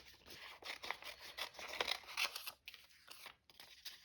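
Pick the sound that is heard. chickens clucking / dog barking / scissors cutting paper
scissors cutting paper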